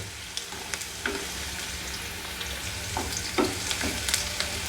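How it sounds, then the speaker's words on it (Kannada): Garlic fries with onion in a pan for an amaranth stir fry, giving a steady near sizzle broken by several sharp scrapes and clicks from stirring. "ಈಗ ಬೆಳ್ಳುಳ್ಳಿನೂ ಫ್ರೈ ಆಯ್ತು ರೀ"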